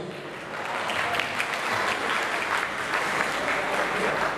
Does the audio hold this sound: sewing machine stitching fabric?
no